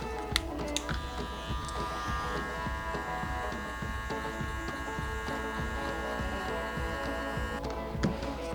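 Electric hair clippers buzz steadily through a basic taper cut at the back of a client's head in a barbershop, a continuous close hum with no talking.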